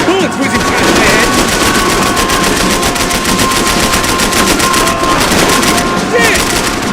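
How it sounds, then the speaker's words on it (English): Dense, loud automatic gunfire rattles nonstop in the Max Payne 3 shooter, rapid bursts piling into a constant close barrage with no pause. "I can't concentrate with bullets whizzing past my head"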